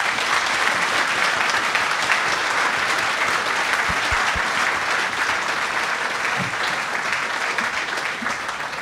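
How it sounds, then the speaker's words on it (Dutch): Sustained applause from a lecture audience thanking four guests at a talk, dense and even clapping that fills the whole stretch, with a couple of faint low thumps partway through. "Maar niet zonder een applaus voor onze vier gasten."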